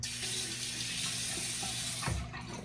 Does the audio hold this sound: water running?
yes